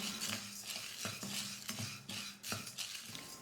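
Toor dal dry-roasting in a kadai, stirred with a utensil in repeated scraping strokes against the metal, fairly quiet and close, with no voices.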